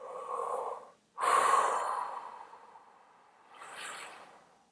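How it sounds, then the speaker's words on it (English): One person takes a slow, deep breath in, pauses, then lets out a long, forceful exhale, followed by a softer breath, all close and quiet. "Let's take a nice deep breath here."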